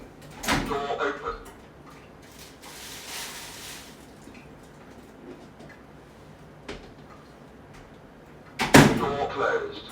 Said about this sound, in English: Door open.